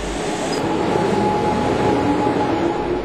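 A Milan metro line 2 train rolls along steadily with a dense, continuous rumble and rail noise, loud and unbroken throughout, with no talk.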